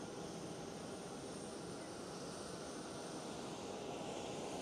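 A Qatar Boeing 777-300 taxis toward the gate at Amsterdam Schiphol, its engines giving off a constant, even, distant rumble and hiss with no distinct peaks.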